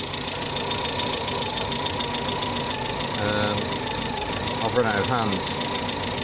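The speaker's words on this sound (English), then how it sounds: "rev the engine at the same time." Dacia car engine idling with a steady knocking chug, then briefly revving a couple of times, while someone talks over it.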